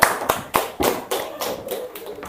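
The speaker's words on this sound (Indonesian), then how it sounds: "Silakan tepuk tangan" A handful of separate claps in a classroom after a group presentation, about eight sharp hits spaced unevenly, close by and softening toward the end.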